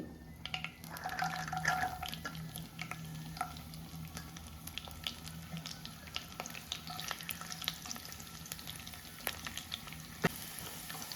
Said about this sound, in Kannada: ಇದು ಸಣ್ಣದಾಗಿ ಉರಿ ಇಟ್ಕೊಂಡು ಬೆಳ್ಳುಳ್ಳಿ ಜಾಸ್ತಿ ಸೀದೋಗ್ದಿರ ಲೈಟಾಗಿ ಫ್ರೈ ಮಾಡ್ಕೋಬೇಕು